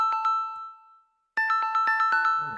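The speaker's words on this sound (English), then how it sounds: "Something is ringing my." Bright electronic ding tones ring out in two bursts of repeated chimes with a short silent gap between them, clear and close, with no talking.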